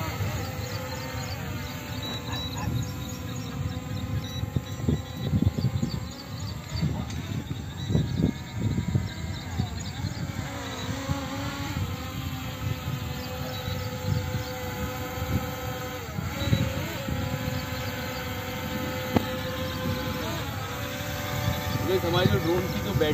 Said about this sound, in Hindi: यहाँ पर ड्रोन देख सकते हो गाइस कितना ज़्यादा स्टेबल है